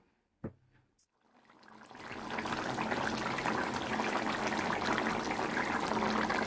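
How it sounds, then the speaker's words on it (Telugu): After a couple of brief clinks, water is poured into hot Nellore-style chicken curry in a pan, building into a steady, loud sizzling hiss that continues to the end. "కొన్ని నీళ్ళు అయితే పోసుకుంటా మసాలా నీళ్ళు"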